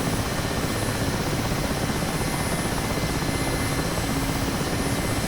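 Mi-8 helicopter running during a cold start in the DCS flight simulator: a loud, steady, dense turbine and rotor roar that fills the whole stretch without change, no voices.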